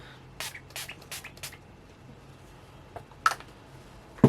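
Several quick hissing spritzes from a makeup setting spray pump bottle, four in a fast run, then a pause and one or two more.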